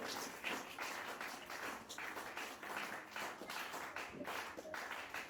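A church congregation claps together in steady, sustained applause, a dense wash of hand claps that swells and dips slightly throughout.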